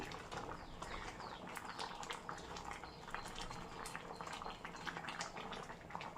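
Coconut milk with ground dry ginger and cumin coming up to a light simmer in a pot, a steady close bubbling and popping texture with small irregular clicks, continuous and fairly quiet with no voices.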